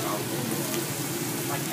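Korean barbecue meat such as beef tongue and bacon sizzles steadily on a tabletop grill at a restaurant, a soft continuous crackle with chatter in the background.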